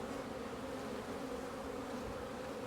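Steady, thick buzzing of many honeybees around an opened hive frame holding pollen, workers and drones, a close continuous hum without pause and with no talking.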